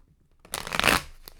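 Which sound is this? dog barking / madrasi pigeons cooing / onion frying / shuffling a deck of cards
shuffling a deck of cards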